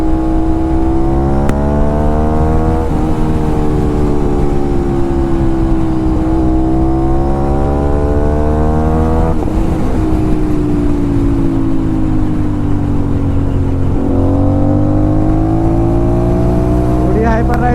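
Aprilia RS 457 motorcycle with a loud aftermarket exhaust revving continuously, engine pitch rising and falling in repeated sweeps, close and loud with faint talk underneath.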